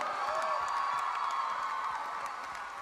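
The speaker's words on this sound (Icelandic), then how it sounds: "Ég var að gefa öllum keppendum gott klapp" Crowd at a school singing contest cheering and whooping with clapping beneath, a steady dense roar that holds loud across the whole stretch.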